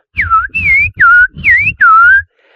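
A person whistles an imitation of a rufous-bellied thrush's song: five loud, close, sliding whistled phrases in quick succession with brief gaps between them.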